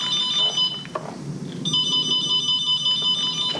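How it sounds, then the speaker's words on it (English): A phone rings steadily with high electronic repeating tones over a busy background rumble, close and continuous with a brief dip midway. "just the phone's ringing"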